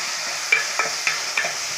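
Tomatoes sauté with salt in a pan, stirred with a spoon in about five sharp, regular scraping taps over a soft sizzle, close and alone.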